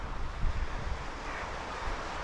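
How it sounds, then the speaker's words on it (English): Steady wind buffets the microphone on a coastal walk from Workington to Allonby, a broad continuous roar with low gusty thumps, close and alone with no voices. "I've got the wind behind me"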